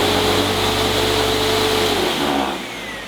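A vacuum cleaner runs with its bottom panel removed, giving a loud, steady motor whine with broadband airflow roar and a faint high tone. Near the end the motor winds down and the sound drops in level.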